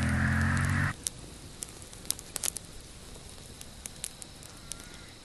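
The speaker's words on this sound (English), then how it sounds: "the fire is roaring" A campfire built from big logs for embers and a camp oven crackles outdoors, with sharp scattered pops and snaps over a low steady hiss after a brief louder opening noise.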